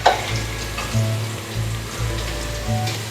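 Onions, then mutton for a cauliflower and mutton curry, frying in a pan with a steady, close sizzle and a low bubbling hiss that holds at an even level, with a few faint stirring clicks.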